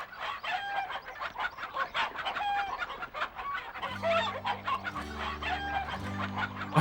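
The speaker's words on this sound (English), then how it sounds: "Oh no, the chickens are upset!" Chickens clucking and a rooster crowing in a video game, repeated bursts of clucks over steady game music that enters partway through, fairly loud with no talking.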